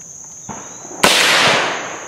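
A muzzleloading rifle fires a 530-grain lead ball at a target during an outdoor woods-walk shoot, giving one loud sharp blast that trails off in a long wash of noise. A fainter crack comes just before it, and a steady insect-like tone runs through the clip.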